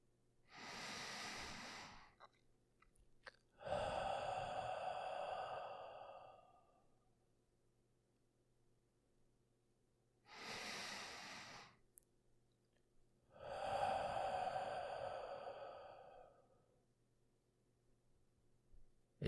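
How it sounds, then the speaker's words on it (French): Slow, deep Ujjayi breathing with inhales through the nose and exhales through the mouth: two full breath cycles, each a long airy, ocean-like rush followed by silence, close and clear. "Inspirez par le nez et expirez par la bouche en écoutant le son des vagues que vous créez ainsi."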